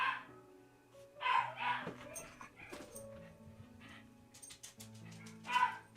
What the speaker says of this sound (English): I need to go yell at a dog and a cat by the sounds of it.